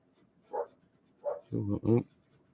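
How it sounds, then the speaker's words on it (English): A dog gives a few faint yips followed by two louder barks in quick succession, heard indoors at moderate distance with no talking over them. "My dog's barking."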